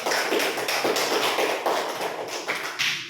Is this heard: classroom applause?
yes